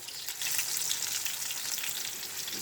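Dried fish (daing) fries in a pan with a steady, dense sizzle that holds loud and even from start to finish, with no voices over it.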